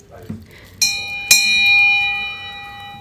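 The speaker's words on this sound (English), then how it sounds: "that was fun ringing the bell for the first time" A bell is struck twice to open a port authority meeting, giving two bright rings with a long, shimmering decay that lingers. Faint room sounds come before it.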